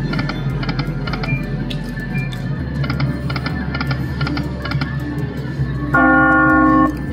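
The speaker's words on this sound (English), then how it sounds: "Delayed ringing of the bell." A casino slot machine rings its bonus bell: a sustained bright chime that rises to a loud burst near the end, over busy gaming-floor hum and rapid clicking.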